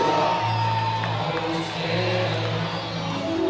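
A baseball stadium crowd at a Banana Ball game cheers and whoops loudly, with a continuous roar of many voices and some steady tonal sounds mixed in.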